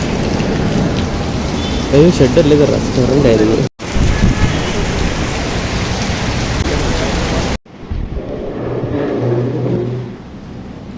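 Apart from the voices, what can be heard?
heavy rain with thunder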